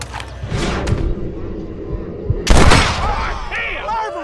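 Gunshots in the Western video game Red Dead Redemption, a few loud bangs with a strong blast midway over a dense background of game sound.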